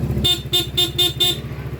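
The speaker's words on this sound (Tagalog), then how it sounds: "Yung busina meron na rin" Five short, evenly spaced beeps from a Honda ADV 150 motor scooter horn, close and clear, over a low steady hum.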